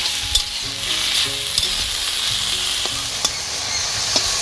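Leafy thankuni greens are fried in a pan with a loud, unbroken sizzle, while a spatula stirs them and adds occasional faint taps against the metal.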